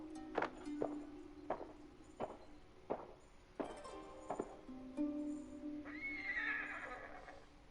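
A horse whinnies loudly near the end in Ghost of Tsushima, following a series of sharp hoof-like thuds and clops spaced about a second apart.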